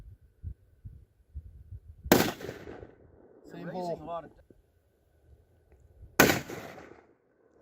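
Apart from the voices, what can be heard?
rifle gunshots at a shooting range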